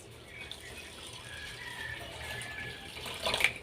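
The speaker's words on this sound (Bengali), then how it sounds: "এবার চিড়েটা আমি ধুয়ে নেবো" Flattened rice (chira) is rinsed in a bowl of clean water, a soft, continuous faint swishing and trickle with a small splash near the end.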